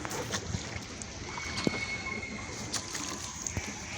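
Small boat moving across water, with a steady wash and rushing noise and some wind against the microphone, no talk.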